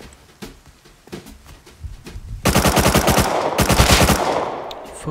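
Rapid gunfire from a sniper in a multiplayer video game shooter, sparse shots at first then a loud, fast sustained burst of cracks up close, tailing off at the end.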